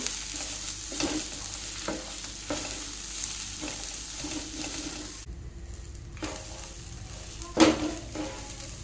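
Tamarind, tomato and coriander leaves fry in a pan with a steady close sizzle. Spatula scrapes break in about once a second. Partway through, a brief lull gives way to a sharp stir and clatter near the end. No one speaks.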